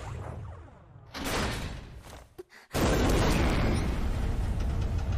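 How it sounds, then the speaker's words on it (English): An anime bomb blast: a muffled rumble swells, cuts to a brief near-silence, then a loud, sustained roaring explosion fills the rest. "Oh, it was a bomb!"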